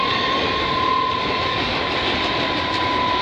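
A train rolls past steadily and loudly at Bayview Junction on the Dundas Subdivision, a continuous rumbling roar with a faint high steady tone running through it.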